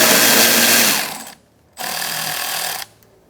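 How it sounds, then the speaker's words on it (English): An 8mm socket wrench runs hard on a bolt in the grille of a 2014-2019 Kia Soul, loud and close in two buzzing bursts split by a short pause. "Using an 8mm socket, we're going to take out this bolt here."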